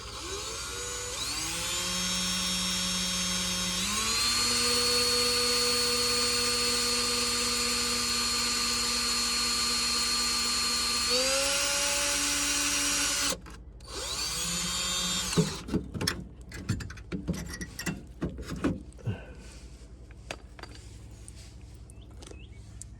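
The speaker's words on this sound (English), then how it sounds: "Just drill a hole in it." A power drill whines steadily, its pitch rising and falling as it bores a drain hole in a 1987 Plymouth Gran Fury, for about thirteen seconds, followed by scattered knocks and clatter.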